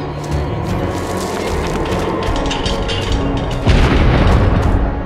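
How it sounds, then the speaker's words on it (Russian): A heavy catapult bombards a fortress in the video game Enclave, heard as a continuous rumbling din of booming impacts that swells louder near the end, with no voices. "Это тяжелая катапульта. Бомбит крепость."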